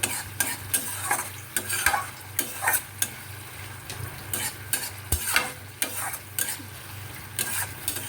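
Spice paste stirred in a frying pan for a hot and sour tilapia curry: a spatula scrapes and clatters against the pan in irregular repeated strokes over a continuous oily sizzle, close and fairly loud.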